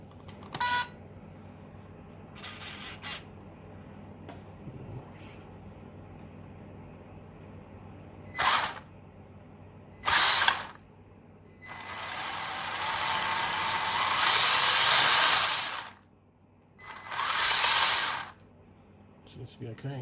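A WLToys 12428 RC car with a newly fitted driveshaft runs in several short bursts of whining motor and drivetrain noise. Longer pulses come toward the end, separated by quiet gaps with faint clicks.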